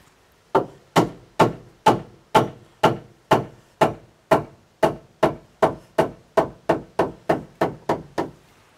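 A hammer pounds during a home renovation adding a porch to a sunroom: about seventeen sharp, loud, evenly spaced blows over roughly eight seconds, each with a short ringing decay, and no talking.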